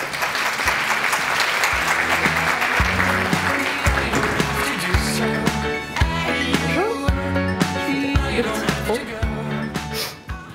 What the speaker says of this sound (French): Et on l'applaudit également, s'il vous plaît